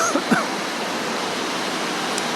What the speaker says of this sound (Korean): 빗소리 들리고 파도 소리 들리고